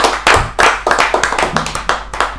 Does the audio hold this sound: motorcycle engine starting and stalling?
no